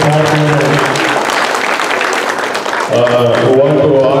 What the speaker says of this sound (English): Let's give a big round of applause to Ms.